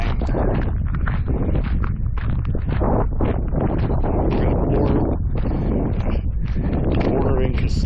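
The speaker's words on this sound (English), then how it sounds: "It's really windy out here." Strong wind roars and buffets the microphone continuously outdoors along a remote Nevada highway on the Loneliest Road, loud and steady throughout with a voice speaking over it.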